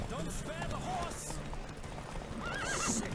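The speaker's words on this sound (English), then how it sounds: "Don't spare the horse!" Horse hooves clip-clopping at a gallop with a whinny and neighs in The Witcher 3 video game, loud and continuous over game background noise, with a voice speaking briefly.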